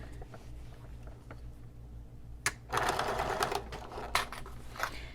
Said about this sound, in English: I'm now going to sew around this, and I took off the free arm of my sewing machine